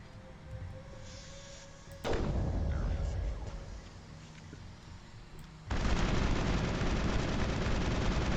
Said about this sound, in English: Gotta get my shotgun working.